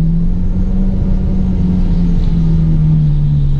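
A Ferrari F12 idles and creeps through stop-and-go traffic in Monaco, its engine giving a loud, close, steady low rumble with a droning tone that dips slightly in pitch.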